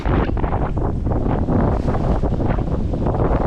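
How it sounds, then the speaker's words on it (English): Strong gusting wind from a storm at sea buffets the microphone with a constant low roar and rumble, loud and unbroken for a few seconds, no voices. "Yeah, it's just a little bugger of a storm. Still pretty windy."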